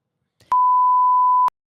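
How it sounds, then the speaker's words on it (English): A single steady electronic beep, about one second long, sharp and loud against silence, like a censor bleep. "That's going to be beeped."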